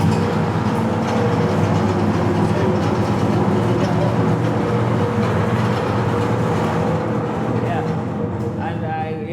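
The motor of a charcoal briquette making machine runs as a loud, steady, rumbling mechanical drone that fills the whole stretch, with voices faintly present beneath it.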